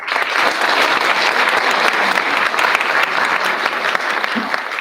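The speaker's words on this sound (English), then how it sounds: "let's have a round of applause for Dr. Garvey." Sustained applause from a large crowd at a middle school arts and academic awards ceremony, dense clapping holding steady and loud throughout.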